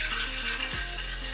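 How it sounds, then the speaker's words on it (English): Freshly made organic celery juice pours into a container, a close steady liquid stream with a gurgling tone that shifts in pitch as the vessel fills. "So now comes the pour."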